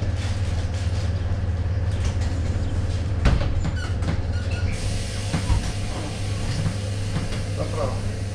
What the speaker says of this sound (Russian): С первого пути отправляется грузовой поезд.